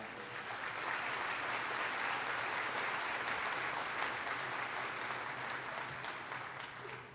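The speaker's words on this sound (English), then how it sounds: "Let us join in a huge round of applause to express our tremendous appreciation for Dr. Morris, the president of our college" A large crowd at a college's 60th annual commencement ceremony applauds for the college president, sustained dense clapping heard at a distance in a big hall, steady and unbroken from start to finish.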